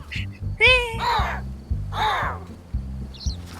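An Iberian lynx call in the video game Alba: A Wildlife Adventure, a few harsh raspy cries over a steady thumping game music bed.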